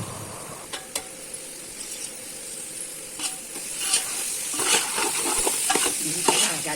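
Meal maker soya chunks and cauliflower fry in a pan with ginger-garlic paste and turmeric, a steady sizzle punctuated by repeated scraping, clinking stirs of a spoon that grow busier toward the end.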